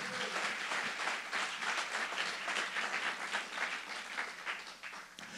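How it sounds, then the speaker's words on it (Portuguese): Church congregation applauding in steady, dense clapping that fills the whole stretch, loud and continuous with no talk over it. "Quem crê, dê o seu melhor aplauso a Jesus nessa noite."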